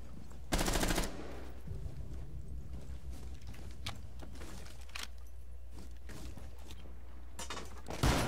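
Rapid bursts of automatic machine-gun fire in a video game rattle over a low droning background, with a loud burst early and another at the very end.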